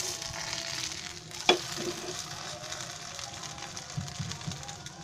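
A vegetable bhaji dosa frying in oil on a low gas flame, a soft, steady sizzle close by, broken by a single sharp clink near the middle, with no voices.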